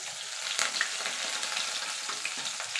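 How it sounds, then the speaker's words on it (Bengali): Medium-sized chopped onion frying in hot oil tempered with black cumin (kalo jeera) for Bengali cabbage bharta, a steady close sizzle with scattered crackling pops and no talk. "এবার পেঁয়াজটাকে ভাজা ভাজা করে নেব।"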